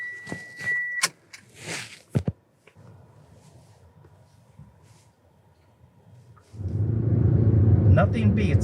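Car interior on a test drive, with a low road rumble building from faint to loud near the end; knocks and handling sounds early on, and some speech.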